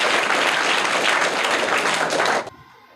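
A classroom audience claps hard and continuously for a student who answered a quiz question correctly, then the applause cuts off sharply near the end.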